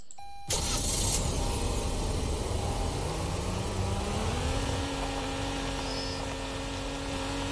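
A car engine in a haunted tunnel suddenly kicks on after near silence, then settles into a loud, continuous hum whose pitch slowly rises and holds, with no voices over it.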